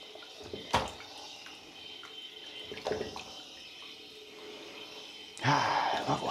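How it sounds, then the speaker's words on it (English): Water runs into a downstairs sink over a rugged tablet, a soft steady trickle punctuated by a few splashy bursts and then a louder gush near the end. "This is a downstairs sink with a tablet,"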